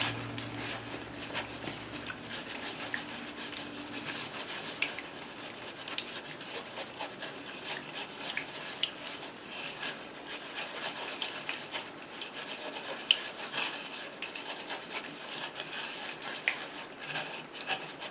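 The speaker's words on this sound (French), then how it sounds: "Je vais mettre de l'eau et je vais mélanger l'eau et la colle." Water and glue get stirred together in a container for a DIY moon lamp, making a steady soft scraping, rubbing swish that continues without a break at a moderate, close level.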